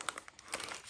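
A paper envelope handled up close, giving a short, faint burst of dry crinkling and rustling.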